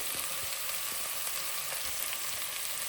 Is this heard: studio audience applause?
no